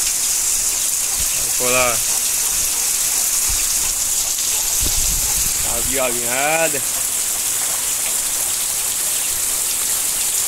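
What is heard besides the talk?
heavy rain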